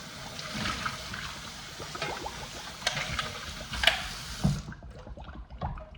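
Water trickles and splashes over parts of a Canoly C16 cold press juicer being rinsed, uneven close dribbles and small knocks that fade out near the end, with no voices.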